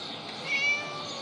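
A cat meows in a video game, one drawn-out, whiny call rising and falling over a steady background hum, fairly close.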